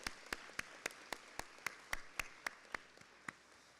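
Faint, sparse clapping from a graduation audience honoring educators at the 2023 Natividad Pagan commencement: a dozen or so distinct, evenly spaced claps that thin out and fade toward the end.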